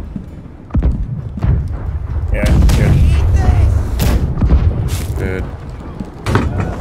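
Cannon fire from ships in a naval battle in the pirate video game Blackwake, with heavy booms at irregular intervals, some close and loud, mixed with battle noise while players talk over it.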